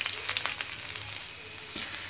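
Chopped onion frying in hot oil in a wok, a close, bright, continuous hiss and crackle with a few light spatters, steady and unbroken without any voices.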